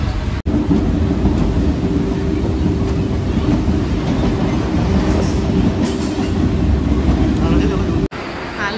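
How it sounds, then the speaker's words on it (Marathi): Mumbai suburban local train at a station, a loud, near, continuous heavy rumble and rattle of wheels on track lasting the whole stretch with only brief dropouts. "आता बघू ट्रेन कितीला येते."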